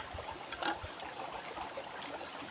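A river stream flows steadily at moderate distance during a trip near El Nido, Palawan, with a soft continuous trickle and no talking.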